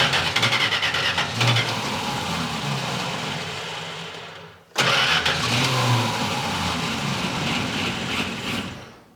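A long-neglected Plymouth Barracuda with a suspected fuel problem cranks and catches, running unevenly in two loud bursts split by a brief drop-out, then dying at the end.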